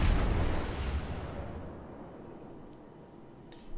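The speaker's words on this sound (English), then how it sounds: "A lot of rounds coming in from him from a lot of big ships." A heavy boom from big warships' naval guns in the World of Warships game opens loud and rumbling, then decays slowly into a low fading roar, with a faint click near the end.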